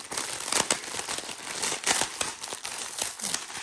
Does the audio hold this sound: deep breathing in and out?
no